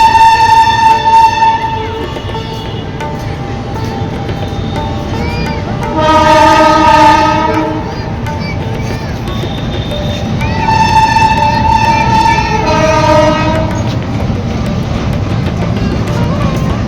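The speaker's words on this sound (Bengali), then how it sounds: "এখানে গঙ্গা ঘাট আর মাথার উপর দিয়ে ট্রেন যাচ্ছে" Train crossing an overhead bridge above a Ganges ghat in Varanasi, a sustained rolling rumble with horn-like tonal bursts rising and fading, loud and steady for the whole stretch over general riverside ambience.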